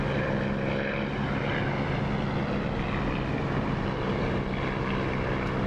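A propeller aircraft engine held at about 2,700 RPM in the DCS flight simulator drones loud and unbroken, with a dense, throbbing roar that stays constant throughout.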